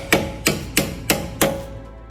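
Five sharp metallic hammer taps land on the front shock absorber stud of a FIAT 124 Spider, evenly spaced about a third of a second apart, each ringing briefly before the next blow, with no talking.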